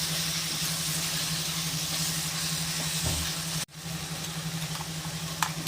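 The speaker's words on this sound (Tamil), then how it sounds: "மஞ்சள் பொடி போட்டுக்கோங்க இது எல்லாமே சேர்த்து வதக்கணும் நல்லா" Onions and tomatoes with turmeric powder sauté in a pan, a steady close sizzle with a low hum underneath, a brief stirring scrape and one abrupt cut partway through, no voices.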